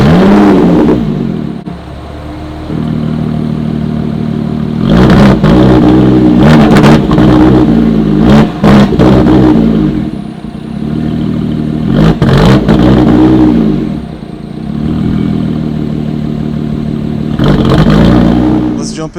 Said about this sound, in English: This is a cold startup of a 2018 Lotus Evora 400.